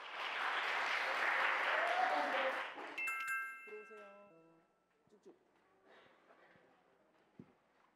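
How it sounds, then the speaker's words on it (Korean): An audience at a middle-school mock-trial competition gives loud, sustained applause to welcome a team, which fades after about three seconds, leaving a chime-like tone, quiet movement and faint voices. "네 번째 발표팀 우리 불암중학교 박수로 맞아주시기 바랍니다"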